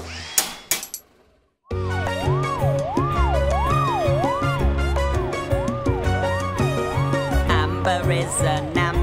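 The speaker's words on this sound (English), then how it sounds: "Amber has a siren to warn us" A cartoon ambulance siren wails in a children's song, its pitch sweeping up and down in regular cycles over loud music, after a brief burst of other sound.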